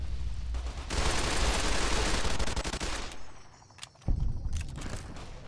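Heavy, continuous gunfire rattles through a Fallout: New Vegas fight for about three seconds, then thins to a few scattered shots and a final loud blast near the end.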